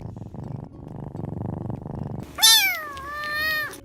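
A domestic cat purrs steadily in a low, rhythmic rumble up close, then lets out one clear, drawn-out meow at the end.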